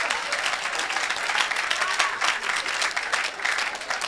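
A church congregation claps and cheers steadily together, a dense, loud, continuous wave of applause that fills the room throughout.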